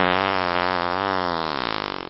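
A long, loud, droning fart blown into a microphone by a heavy metal band, buzzing steadily and breaking into a rapid sputter at the end.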